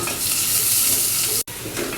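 Garlic paste fries loudly in a hot pan, with turmeric powder going in. A dense, steady sizzle is stirred throughout, broken by one very brief dropout, and no voices are heard.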